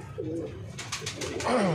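Pigeons coo in low, rolling calls, with a few soft flutters or taps between them, close and clear.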